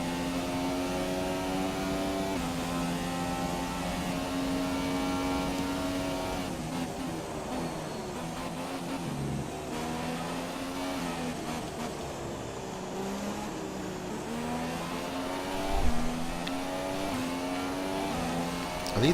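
Formula 1 car engine from the F1 2017 racing game at the British round, a steady high-pitched whine rising and falling through gear changes across the whole stretch, loud and continuous with no talk.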